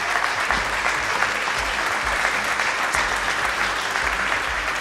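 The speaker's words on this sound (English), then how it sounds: "One more round of applause for both our finalists" A studio audience applauds two finalists steadily, the clapping loud and continuous with a low rumble underneath.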